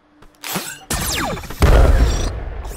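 A fireworks finale bursts in a video game: a loud succession of booms, whistling streaks and crackling explosions building into a heavy, sustained rumble, close and without talk.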